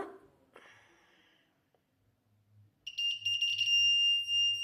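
After a couple of soft knocks and near silence, a shrill electronic buzzer starts and drones continuously and loudly until the end.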